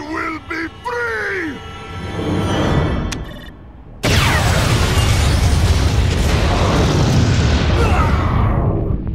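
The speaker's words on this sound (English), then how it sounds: "That is one hell of an explosion." A massive explosion in Metal Gear Rising: Revengeance erupts after voiced dialogue, a sudden loud blast that turns into a long, roaring rumble of debris and fire filling the rest of the moment.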